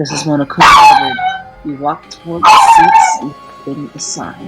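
A pet dog barks twice, loud and near, in short harmonic bursts amid ongoing talk that continues between and around the barks.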